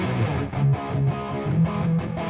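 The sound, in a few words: distortion effect from a Plugin Alliance VST plugin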